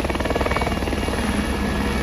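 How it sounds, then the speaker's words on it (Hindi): A passenger helicopter at the Phata helipad, heading for Kedarnath, drones close and loud with a steady rotor chop and engine whine, continuous and unbroken, with no voices. "और अब ये हेलीकॉप्टर आपको सीधा लेकर जाएगा केदारनाथ धाम।"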